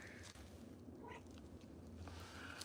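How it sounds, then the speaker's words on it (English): A black house cat makes faint, low purring and soft meow-like sounds indoors, quiet and close, with brief light rustles and no speech over it. "What are you doing, kitty?"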